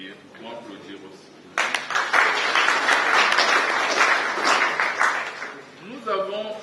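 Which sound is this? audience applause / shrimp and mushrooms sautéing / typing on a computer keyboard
audience applause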